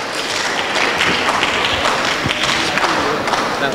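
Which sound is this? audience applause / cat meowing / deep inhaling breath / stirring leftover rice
audience applause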